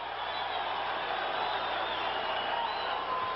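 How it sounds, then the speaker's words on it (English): A boxing arena crowd at a Sugar Ray Leonard versus Dicky Eklund bout keeps up a steady, dense roar of cheering and murmuring throughout, loud and continuous with no single voice standing out. "Crowd likes it."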